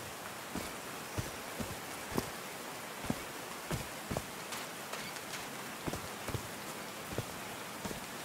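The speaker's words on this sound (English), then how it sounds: "These drops of rain are so refreshing." Rain falls in the video game Call of the Sea, a soft, even patter over a wide area with scattered louder drops ticking at irregular intervals, heard without any talk.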